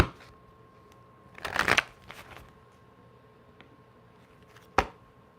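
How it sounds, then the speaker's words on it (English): A deck of playing cards is given a quick shuffle: a dense, loud riffling burst near the middle, some lighter card handling after it, and one sharp snap near the end. No one speaks during it. "So let me get a little shuffle, quick shuffle."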